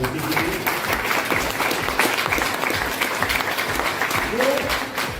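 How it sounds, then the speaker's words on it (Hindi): Audience at a doctor's talk on a health product gives loud, sustained applause, a dense wash of clapping throughout with a few voices mixed in. "मैं एक बार जोरदार तालियां चाहूंगा उस महान मोदी जी की"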